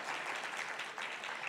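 Audience applause at a 25th anniversary library gala evening, a brief, even burst of many people clapping at once, heard alone without speech.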